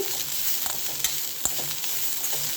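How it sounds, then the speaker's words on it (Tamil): Curry leaves added to cauliflower frying in a pan and stirred, giving a steady close sizzle with a few sharp spoon clicks against the pan. "இப்போ இப்படி கருவேப்பிலை போட்டுக்குருவோமே போட்டு நல்லா பாருங்கள் இந்த காலிஃப்ளவர் வெந்துருச்சு"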